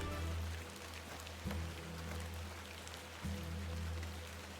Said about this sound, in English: I'm standing in the rain.